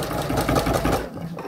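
A sewing machine runs a fast continuous stitch along a bikini boning casing at short stitch length, a loud rapid mechanical whir that stops abruptly just after one second.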